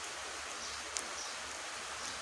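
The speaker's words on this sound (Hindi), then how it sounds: "भाई बारिश भी है" Steady monsoon rain falls outdoors, a continuous soft, even hiss with no pauses and nobody talking.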